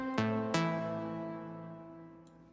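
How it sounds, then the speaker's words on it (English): Two bright synth plucks strike in quick succession, each with a sharp attack and a long, slowly decaying harmonic tail that rings out alone. "So we're going for a pluck sound here."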